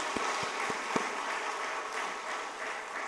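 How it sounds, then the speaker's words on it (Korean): A church congregation claps in a steady, moderate wash of applause. A few sharp claps stand out near the start over a broad, even din. "하나님께 영광의 박수 올려드리겠습니다"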